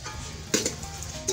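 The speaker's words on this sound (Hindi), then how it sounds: "थोड़ा भूनेंगे ताकि टमाटर थोड़े से सॉफ्ट हो जाएं" Tomatoes, red chilies and spices fry in a pan for a Hyderabadi aloo baingan dish. The sizzle is soft and steady, with a couple of faint scrapes and clinks as the mixture is stirred.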